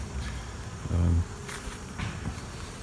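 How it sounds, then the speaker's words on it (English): A yellow jacket or hornet buzzes close by near a beehive in one short, low burst, set against faint outdoor background noise. "There's a yellow jacket or a hornet."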